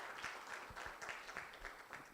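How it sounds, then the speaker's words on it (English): An audience at a study findings dissemination workshop claps, with quick scattered hand claps repeating steadily throughout, fairly faint and heard alone. "A round of applause to these 4 members here."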